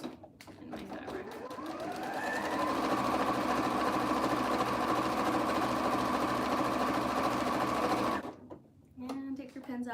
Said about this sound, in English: I just kind of move it around as I'm sewing so that I don't end up with any little tucks in my fabric